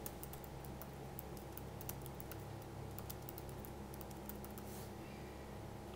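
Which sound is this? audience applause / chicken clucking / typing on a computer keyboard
typing on a computer keyboard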